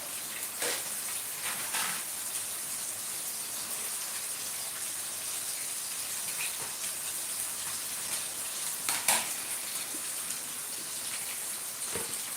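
Halwa frying in a pan with oil, a soft steady sizzle and crackle heard close and quietly, with a few sharper pops scattered through it and no talking.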